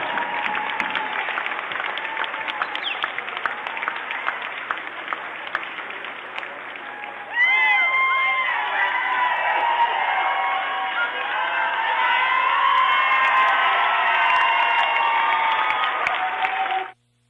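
Sustained crowd applause and cheering at the Sooner Athletic Conference women's basketball tournament championship, won by the Wayland Baptist Flying Queens; steady clapping swells sharply louder partway through with whoops and shouts, filling the arena continuously.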